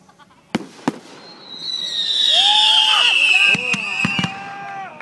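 Fireworks outdoors: a couple of sharp cracks, then a long rising whistling screech with crackling pops and further bangs, fairly close and loud, no talking over it.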